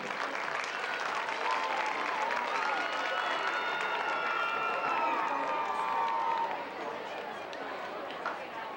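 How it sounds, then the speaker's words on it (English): A crowd at a 2004 high school football game applauds in sustained clapping, with chatter through it and a faint whistle-like tone drifting over the middle. It thins slightly near the end. "Please give Bob and Landmark Bank one round of applause"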